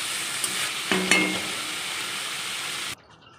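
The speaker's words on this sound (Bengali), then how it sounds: "কালকের মতো করে একদম সেমভাবেই তরকারিটা করছি" A potato and pumpkin curry cooks in a pan with a close, steady sizzle and frying hiss. One metallic clink of a utensil comes near the start, and the sound cuts out abruptly just before the end.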